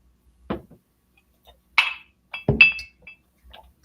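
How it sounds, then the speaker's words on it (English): A drink is poured into a glass holding an ice cube, giving a few sharp, close clinks and taps spread across a few seconds with quiet gaps between them. "We'll pour it out. I got a glass here with an ice cube."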